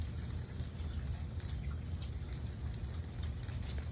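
Steady outdoor rain falling on a sidewalk, a continuous even hiss with low rumble throughout, no voices.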